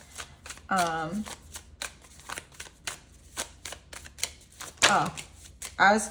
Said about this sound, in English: I'm gonna pull one more card